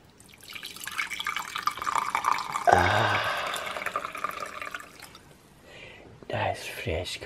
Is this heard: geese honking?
no